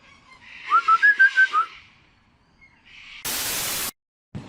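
In Australia, a rapid run of about six shrill, whistling bird calls, followed by loud bursts of harsh static hiss.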